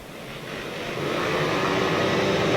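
Sidecar outfits revving together on the start line of a British left-hand sidecar grasstrack championship round, a steady broad engine roar that builds louder and holds at full volume.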